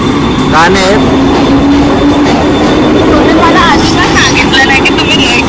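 Mumbai local train at a busy station, a loud continuous rail rumble with rising whines and squeals as it passes, crowd chatter and voices talking over it.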